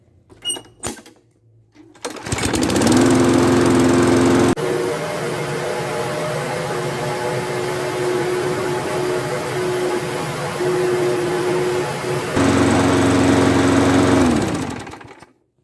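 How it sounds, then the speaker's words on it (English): A small lawn mower engine that had been smoking starts after a few pulls and runs loudly at a steady drone, shifting pitch briefly mid-run before cutting off. "I'm going to start up the engine and see if it still smokes yet"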